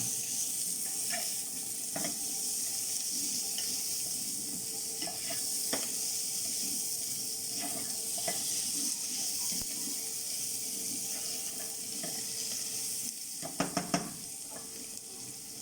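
Marinated chicken sizzles quietly in a pan at a steady hiss, broken by occasional stirring clinks and a brief louder clatter near the end.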